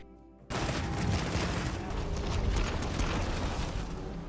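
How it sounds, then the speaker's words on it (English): A light bowgun in Monster Hunter firing in rapid fire mode, a loud sustained burst of fast shots that kicks in abruptly after a brief quiet moment and runs steadily to the end. "You can shoot at a faster speed if you keep R2 pressed"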